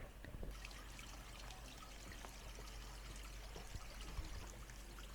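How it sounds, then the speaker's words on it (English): Faint, steady trickling water from a small water wheel along the Nakasendo Way in Japan, with a soft continuous splash and a low background hum. "Mini water wheel, cute."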